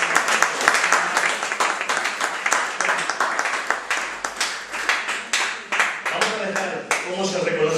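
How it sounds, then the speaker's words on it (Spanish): Church congregation applauding during worship, with dense, sustained clapping throughout and voices heard over it toward the end. "Dale ese aplauso al Señor"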